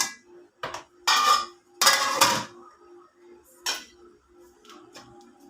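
A pot of Hyderabadi bagara rice being stirred with a metal spoon, giving several bursts of scraping and clinking against the vessel, separated by brief pauses over a faint steady hum.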